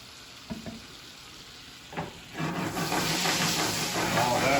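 Butter sizzles and browns in a pan, starting with a few light clinks and taps, then swelling into a loud, steady frying hiss with some background talk.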